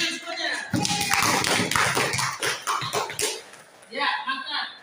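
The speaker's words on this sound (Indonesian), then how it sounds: "Tepuk tangan semuanya." A classroom applauds after a group's presentation, with steady clapping and scattered taps filling the room, mixed with voices and chatter.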